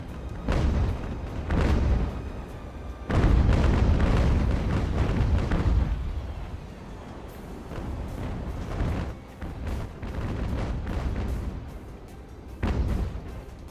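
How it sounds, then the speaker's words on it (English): Age-of-sail ship cannons fire in a naval battle video game, a series of heavy booming blasts with rumbling decays, some overlapping in rolling volleys, loud and close. "Fire cannons."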